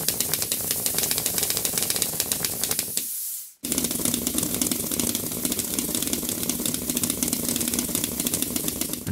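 A homemade six-cylinder pneumatic motor, built by joining two inline three-cylinder motors, runs on compressed air with a steady loud hiss and rapid clatter. It cuts out briefly partway through, then resumes at full strength.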